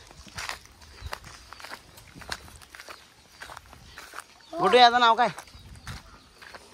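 Hooves of bullocks pulling a cart plod along in a rural village, with soft, irregular steps running under casual talk and a louder voiced sound near the end.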